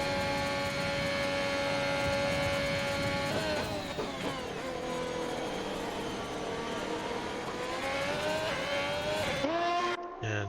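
F1 2021 race car lapping Monza in the video game, a loud continuous high-revving engine whine with gear-shift dips and pitch sweeps, near and steady, ending in an abrupt cut-off, with no talk.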